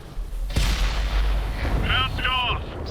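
Tank cannon fire in World of Tanks on Xbox One, with a heavy nearby boom followed by a rumbling tail and short mechanical clanks.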